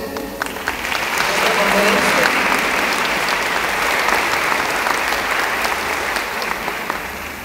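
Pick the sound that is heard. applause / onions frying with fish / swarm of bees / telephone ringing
applause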